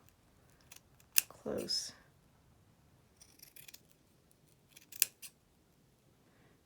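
Scissors snip pink fleece fabric in a few sharp, close cuts separated by quiet gaps, with a brief spoken word at one point.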